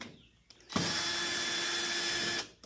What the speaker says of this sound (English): So I'm going to unscrew all these screws